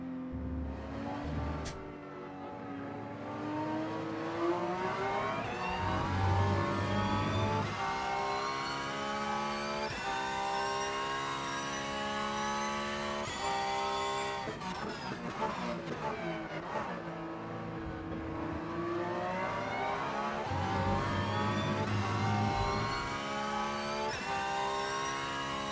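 A Porsche race car in the Rennsport racing game, its engine revving loudly and continuously as it rises and falls through gear changes and throttle lifts, close and unaccompanied by talk.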